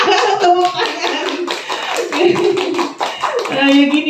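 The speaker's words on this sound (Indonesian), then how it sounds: "Tepuk tangan." A group of teachers and parents clapping hands at a school training session, brief uneven claps mixed with voices and chatter around the room.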